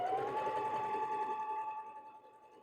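An FYIYUE sewing machine runs a steady stitch along the edge of a piece of fabric, a close, continuous whirring hum that slowly fades toward the end.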